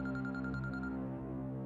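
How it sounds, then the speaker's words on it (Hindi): A telephone ringtone plays steadily and loudly, a bright repeating tone pattern with no talking over it. "फानिया भाभी का फोन,"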